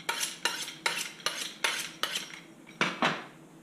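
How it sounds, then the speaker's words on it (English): A sharp knife cuts an avocado in half, heard as a run of eight crisp, evenly spaced chopping strokes against a board, near and fairly loud with no talk. "Cut the avocado in half."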